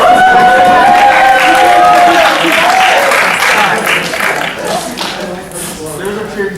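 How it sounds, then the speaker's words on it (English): A quiz-bowl audience applauds and cheers loudly, steady clapping with some whoops that fades gradually over several seconds. "There's a cheering section."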